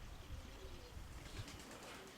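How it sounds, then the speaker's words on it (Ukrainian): Soft, low pigeon cooing amid steady outdoor noise, faint and somewhat distant, a few murmuring calls over a couple of seconds. "одна голубочка каренька якась. Не знаю, що це за голуб чи голубка"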